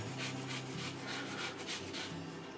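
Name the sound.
zesting a lemon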